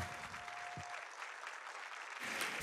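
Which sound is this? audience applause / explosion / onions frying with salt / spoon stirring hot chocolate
audience applause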